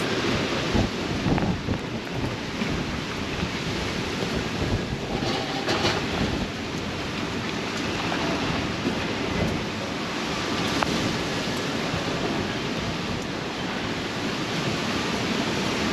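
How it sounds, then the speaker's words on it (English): Rain with strong wind outdoors in Israel, a constant loud broadband rush that roars unbroken for the full length, with occasional gusty swells and no voices. "I think it's raining and there's a strong wind outside."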